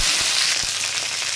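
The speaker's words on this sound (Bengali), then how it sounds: "ফুলকপিটা বেশ একটু ভাজা হয়েছে, 2 মিনিট ভেজে নিলাম আমি" Cauliflower fries in oil in a pan as part of a winter mixed vegetable curry, giving a loud, close, continuous sizzle with a few faint stirring knocks and no talk.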